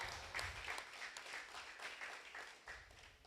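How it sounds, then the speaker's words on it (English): A small crowd at a marathon press conference claps in scattered, uneven applause, fairly faint and distant, lasting a few seconds. "let's give her a round of applause as well"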